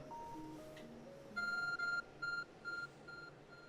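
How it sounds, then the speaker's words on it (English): The Arc phone in the video game Pokémon Legends: Arceus beeps: a short series of about five bright, high electronic tones in a quick rhythm over soft background game music. "Your Arc phone is beeping."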